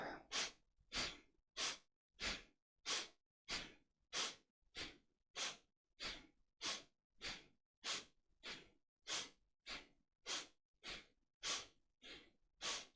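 Deep, rhythmic breathing during inner alchemy practice: about twenty strong, evenly spaced breaths, roughly one every half second, each a loud airy rush close to the ear, with no talking.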